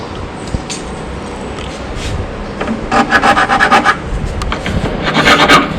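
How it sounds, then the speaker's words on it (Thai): A hand file rasps plastic tabs off a Fishman 301 acoustic guitar pickup part, giving a run of short, even scraping strokes that grow louder and quicker toward the end, close up with no talking. "เราก็จะตะไบติ่งมันออก ก็ให้สวมเขาตรงนี้ได้"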